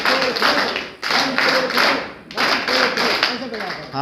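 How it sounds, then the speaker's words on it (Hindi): Audience clapping at a youth gathering, delivered in rhythmic bursts of claps separated by short pauses, with speech mixed in among the claps. "ताली 3 क्लैप्स को बनती है।"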